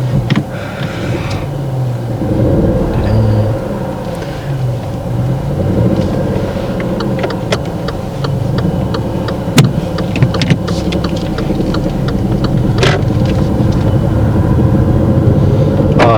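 A learner driver moves a car off from a standstill. A loud, steady engine rumble and road noise fill the cabin continuously, with small knocks and clicks scattered over it and no talk.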